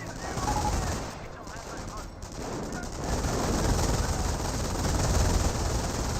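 Dense, continuous gunfire and distant explosions fill a World War II battle in Company of Heroes, rattling loud and unbroken through the whole stretch, with faint talk beneath it.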